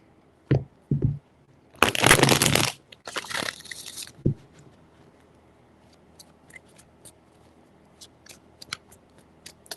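Tarot cards being shuffled in a few quick riffling bursts with taps and soft card handling, close and otherwise quiet, followed by light scattered clicks.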